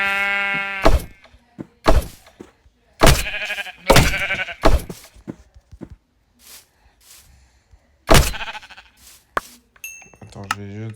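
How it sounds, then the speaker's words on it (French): Several sheep bleats in a Minecraft survival game, sharp short calls spaced irregularly over a few seconds with quiet gaps, alongside faint game thuds and some other sounds. "Ah, là, il y a un mouton. Parfait."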